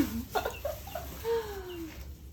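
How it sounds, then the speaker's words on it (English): Young chickens, about 11 weeks old, cluck and chirp at a backyard coop in a few short calls and a longer drawn-out note, close by and moderately quiet over a low background hum. "I came out here to check on the chickens since the 3 were murdered"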